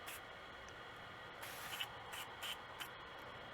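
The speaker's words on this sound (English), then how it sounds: "So I'm going to spray the bolt down." Cleaner sprayed onto an AR rifle bolt in short hissing bursts, with several quick spritzes close to the mic over a steady background hiss.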